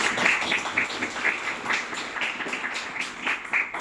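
An audience at a human rights forum on Chile's constitutional process gives a warm round of applause, a soft, steady patter of many hands with light accents, fairly distant in a large room.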